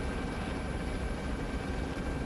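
Steady, loud helicopter rotor and engine noise, heard from inside the aircraft during a military operation, a continuous broadband roar with no talk.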